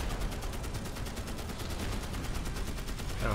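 An M60 machine gun fires in the video game Magicka, a fast, even stream of rapid shots rattling on without pause, loud and close throughout.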